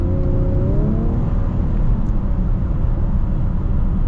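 A 2024 Ford Edge ST with its turbo V6 pulls hard under acceleration, a loud, steady engine drone with rising harmonics that fades into constant road and wind noise, heard from inside the cabin.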